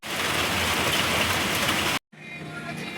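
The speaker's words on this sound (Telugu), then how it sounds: "కానీ సడన్గా వర్షం స్టార్ట్ అయింది." Sudden heavy rain pours down outdoors on a trip near Rajahmundry, a loud dense steady hiss of drops on surfaces that cuts out briefly and then returns slightly quieter.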